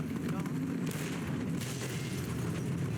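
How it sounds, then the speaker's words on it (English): Explosions in the video game Fallout New Vegas, a dense run of booms and blasts with a loud rolling roar throughout. "Why there's so many explosions?"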